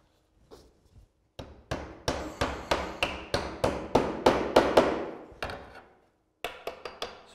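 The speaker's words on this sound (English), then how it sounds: "So I've nailed that slate onto the line on my batten." A nail is hammered through Brazilian slate onto a roofing batten: a steady run of about fifteen sharp, close, loud blows, a short pause, then a few quicker taps.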